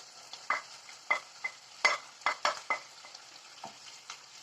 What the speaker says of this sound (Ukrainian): Сюди ми додаємо морку та цибулю, яку попередньо нарізали.